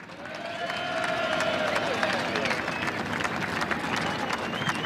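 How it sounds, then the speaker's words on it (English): A trackside crowd applauds a podium finisher from Ford Performance Racing at the 2006 Ipswich 400 Supercars race, a dense wash of clapping and cheering heard at moderate distance with a voice briefly audible over it. "Give a nice round of applause"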